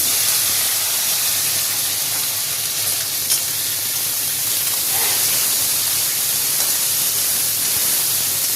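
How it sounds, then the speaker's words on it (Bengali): Okra frying in hot mustard oil in a kadai gives a steady, loud, even hiss of sizzling that runs unbroken throughout with no voices. "ভেন্ডিটা দিয়ে দেবো।"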